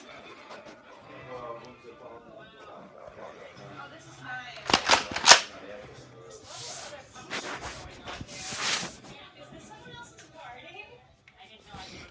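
Nerf blaster shots in a backyard-style Nerf battle, a few sharp pops and clattering bursts mid-clip amid excited voices and movement.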